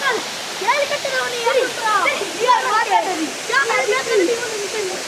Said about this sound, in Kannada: ಹೇಗಿದೆ ನೋಡಿ ಎರ್ಮಾಯಿ ವಾಟರ್ ಫಾಲ್ಸ್